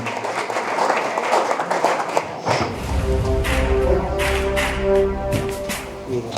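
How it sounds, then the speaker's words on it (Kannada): Sustained applause from a crowd at a ceremony honouring a woman selected to the Navy, steady clapping filling the space, with a sustained musical tone rising underneath in the second half. "ಜೋರಾದ ಚಪ್ಪಾಳೆ ತಟ್ಟುವ ಮೂಲಕ ಅವರಿಗೆ ಅಭಿನಂದನೆಗಳನ್ನು ಸಲ್ಲಿಸೋಣ"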